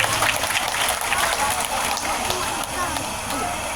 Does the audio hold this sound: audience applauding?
yes